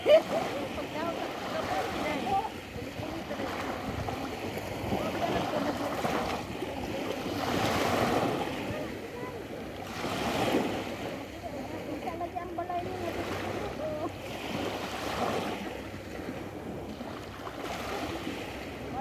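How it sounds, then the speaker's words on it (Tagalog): Ocean waves roll and surge in slow repeating swells, with steady wind buffeting the microphone throughout. "Karagatan."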